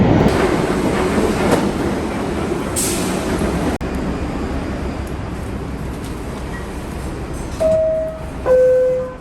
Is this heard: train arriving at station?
yes